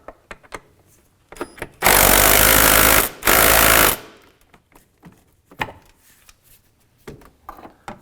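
A 10mm socket wrench loosening an intake hose clamp on a 2015-2019 Hyundai Sonata makes two loud, rapid rattling bursts back to back, surrounded by quiet clicks and taps.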